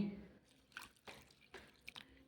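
Soft drips and small splashes of water poured in a few short bursts onto a potted succulent (ruby necklace plant), quiet and close, with faint background murmur.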